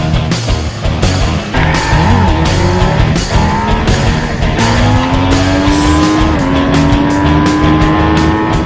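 A 2014 MV Agusta Brutale Dragster 800 street fighter with its 798cc triple engine revs hard and loud, the pitch climbing steadily through the gears with a dense, raspy exhaust note throughout.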